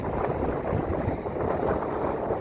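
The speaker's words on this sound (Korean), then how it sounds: "바람이 지금 엄청 붑니다" Strong wind roars over a seaside salt farm in Indonesia, a dense, steady buffeting rumble that fills the whole stretch without a break.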